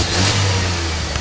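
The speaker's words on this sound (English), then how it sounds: "Oh, look at him revved." A car engine revving, a brief loud mid-pitched roar that holds steady under a busy background, with no talk.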